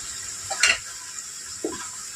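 Spice masala of Kashmiri chilli powder, green chilli, turmeric and tomato stirred and fried in a pan for a shankar fish dish, with quiet sizzling and two brief scraping stirs.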